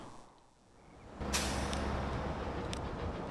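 A bus in the video game Transport Fever 2 gives a sudden loud hiss of its air brake after a quieter lead-in, then a sustained engine rumble with a couple of brief sharp bursts.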